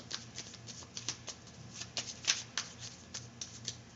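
Cards from a romantic angels tarot deck being shuffled and handled, a steady run of crisp riffling flicks and soft slaps, close and clear with no talking.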